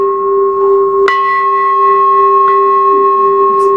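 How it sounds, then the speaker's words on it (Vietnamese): A large Buddhist temple bell is struck once, adding a fresh strike over a ring already humming. Its deep, pure tone sustains loudly and steadily for several seconds with a slow shimmer. "Người thỉnh chuông phải đủ năng lực phát tiếng chuông đều, không nên tiếng nhỏ tiếng lớn."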